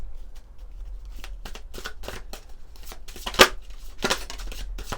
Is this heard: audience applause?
no